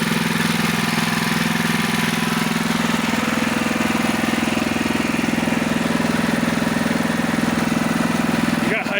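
Diesel engine of a trailer-mounted logging crane idling steadily after start-up, a loud, even, low throbbing drone close by that runs unbroken for several seconds.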